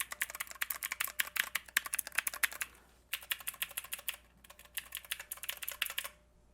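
Plastic keys on a Divoom Ditoo retro pixel-art speaker being pressed in quick, close clicking bursts that sound like keyboard typing, with a short pause midway and no talking.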